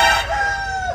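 A rooster crows once, loud and close, a single drawn-out call that trails off within a second.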